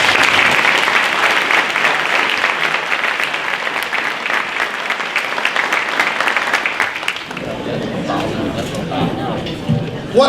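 An audience at an annual volunteer recognition reception in Manassas applauds with loud, sustained clapping for about seven seconds. A speaker then talks over the last few claps.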